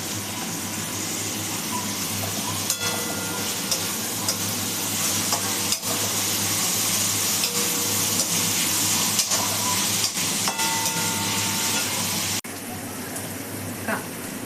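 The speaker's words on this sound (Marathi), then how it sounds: "टोमॅटो टाकून चांगलं परतून घ्यायचं" Tomatoes sautéing with ginger and garlic in a pan for pav bhaji give a steady close sizzle and frying hiss throughout, with occasional stirring clicks and a brief drop in level near the end.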